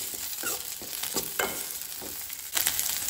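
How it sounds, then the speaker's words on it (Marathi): Ginger stirred into frying onions in a pan for Goan-style chole, with soft sizzling under intermittent scraping strokes of a spoon against the pan, close and steady. "आले घालून मातशें मिक्स करता."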